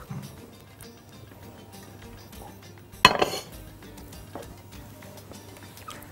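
A Pyrex glass dish set down on a kitchen counter, a single sharp clink with a brief rattle, moderately loud against a quiet room background.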